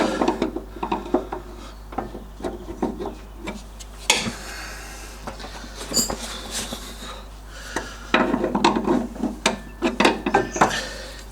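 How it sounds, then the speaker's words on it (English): A pry bar levers against a suspension joint on an MGB to break its taper, giving scraping, rubbing metal-on-metal rasps and creaks in irregular bursts with a sharp clank partway through, heard up close with no talking. "just going to lever this away from one side, so it just sort of breaks that taper"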